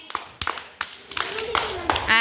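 Children in a classroom give a few brief bursts of hand clapping that swell and fade, while an adult and some children talk over them.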